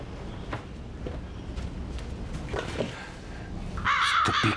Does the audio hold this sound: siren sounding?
no